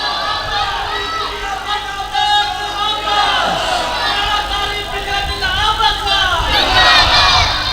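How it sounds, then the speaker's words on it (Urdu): A large crowd at an Islamic devotional gathering for naat recitation chants religious slogans together, a loud, dense roar of voices that keeps going steadily for several seconds with swelling bursts. "اچھا کٹھے ہی نعرے شروع کر دینے، کٹھے ہی چپ کر جاتے ہیں"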